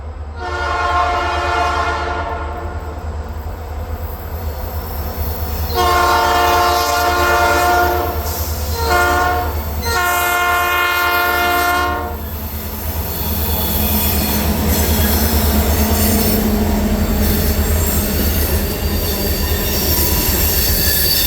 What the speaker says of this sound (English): I would catch L126 headed west through Consul, Alabama with a trio of SD40-2s led by AGR 3375.